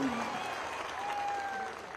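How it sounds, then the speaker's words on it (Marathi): A political rally audience in Nagpur applauds, a dense wash of clapping filling the moment, with a faint tonal whine running across it. "आपण सगळ्यांनी टाळ्या वाजवून स्वागत करू या"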